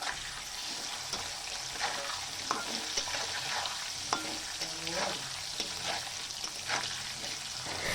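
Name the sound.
potatoes frying in a pan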